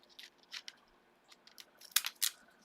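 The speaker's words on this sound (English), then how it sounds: "And I like to cut mine out with edging scissors." Edging scissors snipping through paper for a handmade autumn card, a series of crisp irregular cuts, close and quiet, a few louder snips near the end and no talk.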